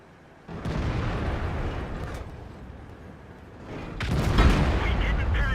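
A tank cannon shot in a tank video game, a heavy booming blast from an M103 breaking a quieter engine rumble, then a second loud rumbling surge of gunfire or impact near the end, with no talk.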